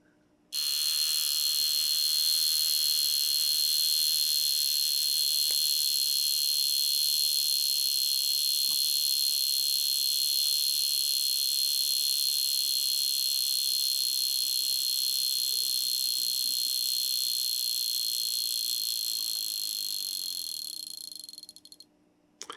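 A mechanical wristwatch alarm gives a loud, steady high-pitched buzz, like an insect chirring, running continuously for about twenty seconds before cutting off.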